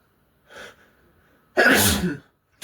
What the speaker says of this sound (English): Sorry if you just heard me sneeze